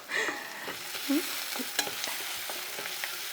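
Cluster beans frying and being stirred in a pan, with a soft steady sizzle under repeated scraping and tapping of the spoon against the pan, close by and with no talking.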